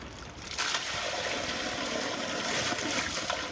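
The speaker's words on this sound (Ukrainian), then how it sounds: "Зараз будемо воду зливати." Steady rushing and trickling of water pouring out, starting after a brief quiet moment and continuing evenly, fairly close.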